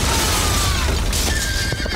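Horses whinny loudly in a panicked period-drama scene, with several sharp neighs rising over a dense, noisy background.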